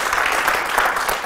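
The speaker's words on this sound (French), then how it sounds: "applaudissements pour tante Johnine" A studio audience at a French-language variety television show applauds in a brief, steady wash of clapping with faint crowd murmur.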